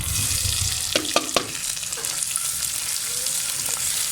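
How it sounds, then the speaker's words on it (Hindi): Finely chopped onion hits a pan where garlic is already frying, giving a steady close sizzle with a few quick clacks of stirring early on. "अब ये प्याज जो कि मैंने काट के बारीक रखा हुआ था वो मैं डाल दूंगी।"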